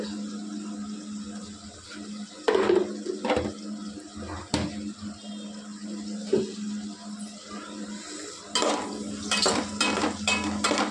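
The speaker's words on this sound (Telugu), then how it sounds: "ఈ ఉల్లిపాయలు కొద్దిగా మెత్తబడే వరకు ఇలా తిప్పుకుంటూ స్లోలో పెట్టుకున్నాను స్టవ్" Onions being stirred in a pan over slow heat for a gongura dish, with scattered metallic scrapes and clinks of the utensil against the pan over a steady low kitchen hum.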